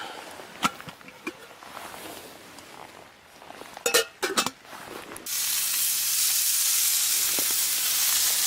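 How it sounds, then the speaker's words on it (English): Steak sizzles in a pan on a camping stove, a steady loud hiss taking over after a few seconds of clattering handling noises and faint outdoor ambience. "Frying some steak."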